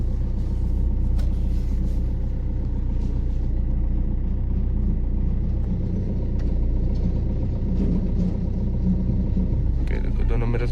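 A car reverses slowly out of a parking spot during a driving lesson, a steady low engine rumble close by with faint mechanical ticks, under someone talking.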